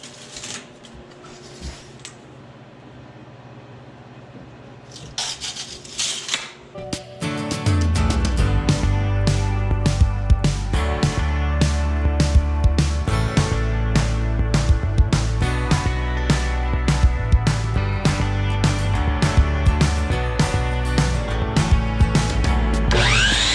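Scrap lumber boards cut to length for roof panels with a power saw, a near, loud burst of rapid repeated cutting and clattering after a quieter opening with faint handling noises.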